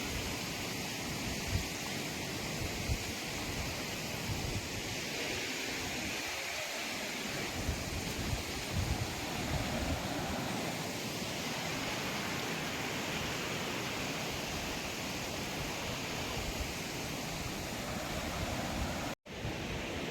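Water rushing down the Dhangar waterfall near Wagbil, Savroli village, Badlapur: a constant, even roar with no pauses, close and dense, holding steady for about twenty seconds apart from one brief dropout near the end.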